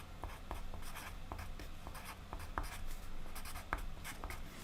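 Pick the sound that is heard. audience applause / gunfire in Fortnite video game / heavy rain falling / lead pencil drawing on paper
lead pencil drawing on paper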